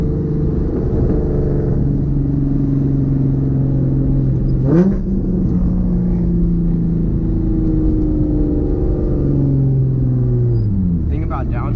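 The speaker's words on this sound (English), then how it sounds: "That was a loud ass downshift." Nissan 350Z with a full Tomei exhaust downshifting, loud engine drone rising in a sharp rev blip midway and again near the end, heard from inside the car over continuous road rumble.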